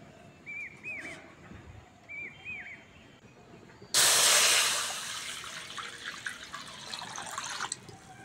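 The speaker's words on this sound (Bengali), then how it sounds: "কড়ার মধ্যে জল দিয়ে দেবো, দিয়ে বাঁধাকপিটা সিদ্ধ করে নেব।" Water is poured into a hot wok set over a lit stove to boil cabbage. A sudden loud rushing hiss starts midway and stays steady, fading only slightly toward the end after a quiet stretch with faint background noises.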